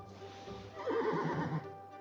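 A horse in the ranch video game Wishblossom Ranch gives a short, clear whinny, rising and wavering for about a second, with faint hoof clip-clops around it.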